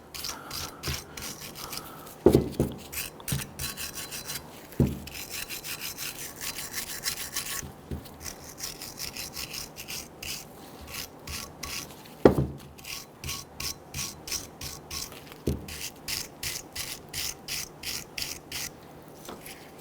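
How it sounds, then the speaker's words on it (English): A bristle brush scrubbing around the rubber boot port of a rear brake caliper on a 2011–2017 Nissan Quest, in rapid rhythmic rasping strokes with a few sharper knocks and short pauses, close and moderately loud. "Go ahead and use your bristle brush and clean up around the port where the rubber boot is to go."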